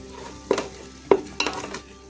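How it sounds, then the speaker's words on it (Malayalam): Grated coconut stirred in a pan over a low flame, heard as a few sharp spoon scrapes and knocks against the pan over a soft, quiet sizzle, close by with no voices. "തേങ്ങയൊക്കെ നല്ലവണ്ണം ഒന്ന് ഇളക്കി ലോ ഫ്ലെയിമിലിട്ടിട്ട് വേണം നമ്മൾ ചെയ്യാൻ"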